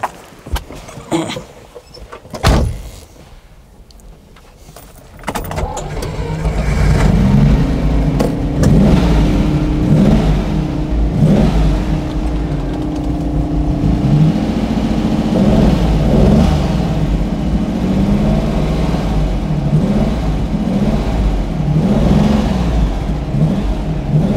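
A 1967 Lamborghini 400 GT 2+2 V12 engine cranks and catches, then settles into a loud, steady rumble with repeated revving swells, close by and without talk.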